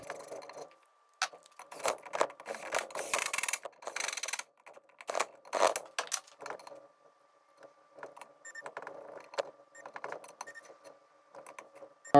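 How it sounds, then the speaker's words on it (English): A ratchet drives and torques sprag bolts on a 47RE/RH automatic transmission being converted to a 48RE for a third-generation Cummins: intermittent bursts of close, sharp ratcheting clicks separated by quiet pauses, with metallic handling noises between. "So let me go ahead and get all my bolts in, and I'll look up the torque spec for it and we'll torque it down."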